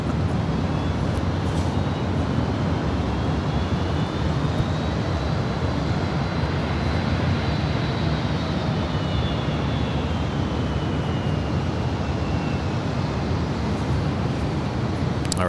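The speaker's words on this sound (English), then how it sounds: "our next arrival here on the north side is Delta Airlines Flight 2793 coming in from Cancun, Mexico, 737-900" Delta Air Lines Boeing 737-900 jet arriving at LAX, a steady loud engine roar with a faint whine that rises and falls, heard from a distance without speech.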